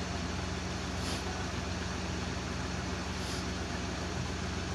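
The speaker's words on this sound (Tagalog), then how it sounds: "napapansin ko na nanginginig na yung makina" A multicab's engine runs steadily with a low, even hum and a constant vibrating drone, close by and alone, during a stall-prone spell in rain or flooding.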